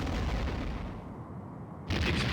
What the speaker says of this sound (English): The explosion worked that time.